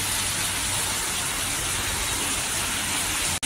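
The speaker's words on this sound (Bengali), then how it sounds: "কিন্তু তুমুল বৃষ্টি হচ্ছে, তুমুল বৃষ্টি" Heavy rain from cyclone Remal pours in a dense, unbroken roar at close range, steady and loud throughout, cutting off abruptly at the very end.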